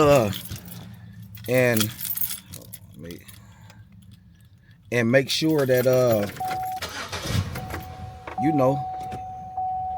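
Keys jingle close by, then a car engine cranks and starts during a check-engine-light repair, with someone talking over and between the sounds and a steady electronic chime following.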